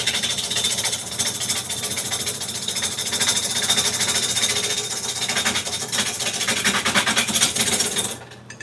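A wood lathe cuts into a spinning wooden plate, giving a loud, continuous scraping roar with steady rough texture that cuts off abruptly near the end, leaving a quieter tail.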